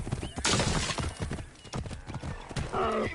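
A horse in the Assassin's Creed Origins video game gallops with loud rhythmic hoofbeats and gives a whinny near the end, while voices speak over it.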